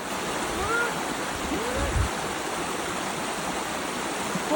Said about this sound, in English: That is glacier fed water.